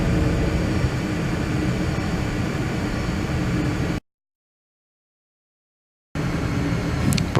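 Aircraft landing gear extending in a flight simulator, heard as a steady, loud broadband rumble that cuts out completely for about two seconds, then resumes at the same level.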